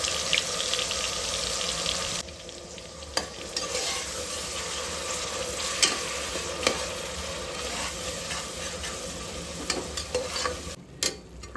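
Onion paste fries in a pan with whole spices for goat head curry, a steady close sizzle broken by sharp scraping and stirring knocks, with a brief pause near the end.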